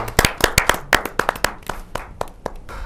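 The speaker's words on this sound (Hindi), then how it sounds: "जोरदार ताली के साथ" Audience at a Hindi kavi sammelan poetry gathering claps in a loud, close burst of sharp, uneven handclaps that thin out over about three seconds, with no voices.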